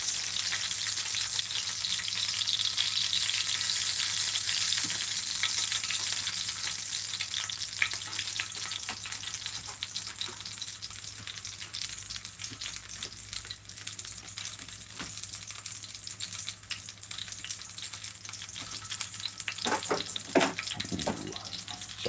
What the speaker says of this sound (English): Frying pan ASMR